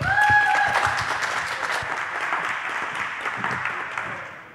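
An audience at a lightning talks session applauds, a full burst of clapping that starts strong and gradually tapers off over several seconds, with a brief electronic tone at the very start.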